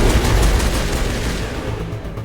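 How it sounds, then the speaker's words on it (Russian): Rapid, dense gunfire from a weapon in Mass Effect Legendary Edition, a loud continuous burst of overlapping shots that rolls on for a couple of seconds with no talking. "Охрененно стреляет."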